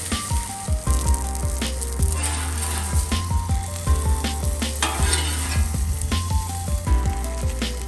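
Brussels sprouts sizzle on a hot Blackstone griddle, a continuous close crackle with scraping and stirring knocks recurring throughout, over a low steady hum, no voices.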